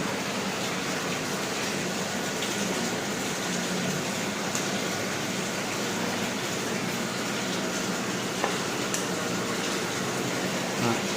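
Steady, broadband rush of water flowing through a water refilling station during a fast rinse of its double reverse-osmosis membranes, a constant hiss that holds at even loudness throughout with no pauses.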